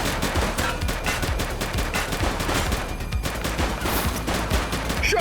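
Gunfire in a police video game: dense, rapid bursts of shots crackle continuously, loud and close, like a sustained firefight with overlapping automatic and single shots.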